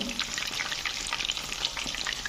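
Chicken leg tikka pieces half-fried in hot oil, giving a steady, dense sizzle and crackle that stays close and even throughout, with no voices.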